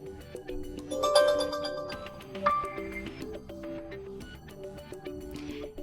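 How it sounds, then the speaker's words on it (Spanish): Notification tone on a Realme 14T 5G phone, a bright melodic chime sequence of several quick notes played alone, clear and close, with a short closing ping. "Ahora tono de notificación."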